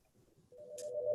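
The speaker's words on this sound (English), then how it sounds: "my desk phone is ringing and it never rings" An office desk phone rings with a clear electronic tone starting partway through, rising over a low murmur of room noise and distant voices.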